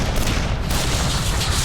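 Loud sustained gunfire effect from a Doctor Who audio drama, a dense continuous volley of shots and booms filling the whole moment, with no voices.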